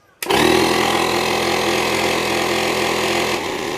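A digital tyre inflator air pump for car and bike switches on abruptly and runs close by with a steady, loud buzzing motor drone, easing slightly in level toward the end.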